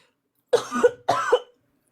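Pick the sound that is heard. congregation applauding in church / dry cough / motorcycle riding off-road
dry cough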